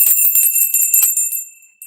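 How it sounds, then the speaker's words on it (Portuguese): A small bell jingles in quick repeated tinkles, bright and close, fading out toward the end with a final faint ring. "Cadê o sininho? Merece até sininho."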